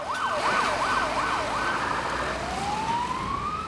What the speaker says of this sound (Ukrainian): Включили сирену і поїхали.